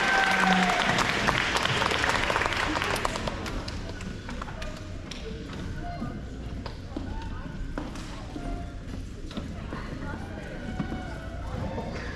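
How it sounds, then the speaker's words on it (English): An audience at an elementary school awards ceremony applauds a straight-A student, the clapping loudest at first and then settling into a steady patter, with voices and cheers over it. "let's give her a round of applause, our only straight A person"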